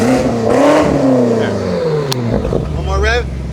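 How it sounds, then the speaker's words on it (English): A BMW X5 Competition fitted with a G Exhaust revs up loudly nearby, engine tone rising and falling through a couple of throttle blips, with voices speaking over it near the end. "Give us some revs, Matt."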